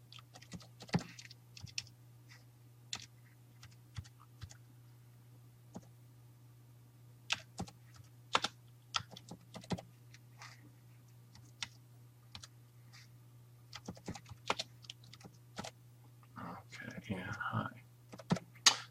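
Typing on a computer keyboard with the tab key used to move through a worksheet, scattered light clicks and taps in uneven bursts, close and fairly quiet under a steady low hum, with faint quiet speech at times.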